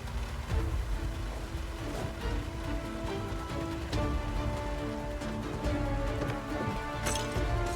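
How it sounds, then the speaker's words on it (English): Rain striking glass in Project Zomboid, a steady dense patter with scattered sharper drop ticks throughout, fairly loud and continuous with no voices. "the rain hitting the glass ramp"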